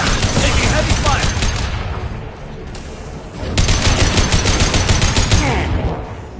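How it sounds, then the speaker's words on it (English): Heavy, sustained gunfire in a Mass Effect firefight: dense bursts of rapid shots, loud and close, dip briefly in the middle before a second volley of fast, rattling fire. "Taking heavy fire."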